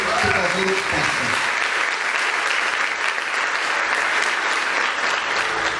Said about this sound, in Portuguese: Você pode dar um aplauso a Ele, por favor, faça.